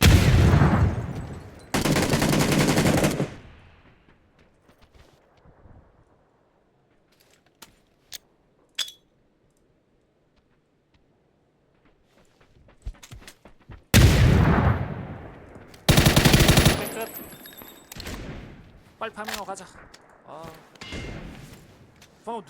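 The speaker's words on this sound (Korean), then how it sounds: "누가 우리 쪽에 총 쏘는데" Video-game gunfire aimed at the players comes in loud, sharp bursts: a heavy volley at the start, scattered single shots through a quiet stretch, then more close bursts near the end, with voices talking at times.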